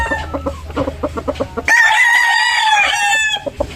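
Gilmore Hatch gamefowl and pullets nearby: a run of quick rhythmic clucks followed by one long, loud rooster crow rising and falling, close and clear with no talking.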